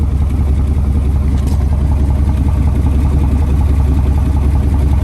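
An OBS Chevy truck with a cheap DIY ZL1 true dual exhaust idles close by, giving a steady, deep, throbbing rumble with an even lope throughout and no talk.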